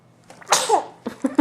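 A baby sitting in an exersaucer gives one sharp sneeze, close by, followed by a few short breathy vocal sounds.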